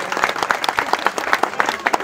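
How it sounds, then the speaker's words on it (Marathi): Crowd of people clapping at a felicitation gathering to welcome a team, a steady burst of dense applause filling the whole moment, moderately close, with no speech over it. "सर्वांनी एकदा टाळ्या वाजवून स्वागत करायचं आहे"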